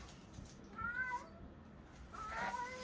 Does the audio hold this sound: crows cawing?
no